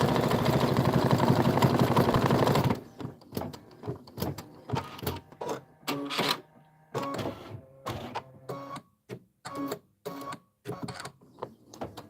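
An embroidery machine stitches a quilt block at its fastest speed of 1,050, giving a steady, rapid mechanical whir for about three seconds, then a run of short, clipped stitching bursts and pauses, close and fairly quiet.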